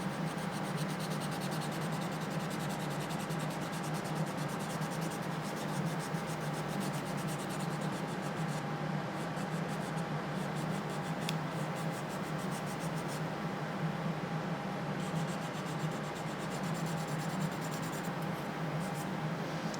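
Steady, continuous abrasive rubbing of sandpaper over filler on a plastic shell, close and fairly loud, with no talking.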